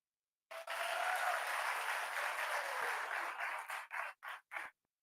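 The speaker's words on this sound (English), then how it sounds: "We give a round of applause for it." Audience applause rings out at a community poetry gathering, a dense continuous wash of clapping that holds steady for several seconds before breaking into a few short trailing bursts and fading out.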